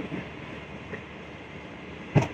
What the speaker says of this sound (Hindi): 8:02 पर गाड़ी पहुँची हमारी